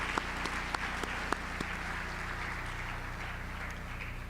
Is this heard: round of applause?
yes